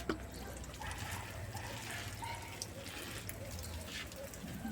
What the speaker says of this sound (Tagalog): Ayan, magdilig tayo ng tubig guys.